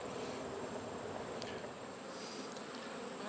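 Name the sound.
honey bees buzzing in a bee yard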